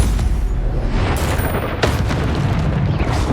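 Stupefy spell cast in the video game Hogwarts Legacy, a loud booming magical burst with a sharp crackling impact partway through, layered over continuous dense rumbling combat noise.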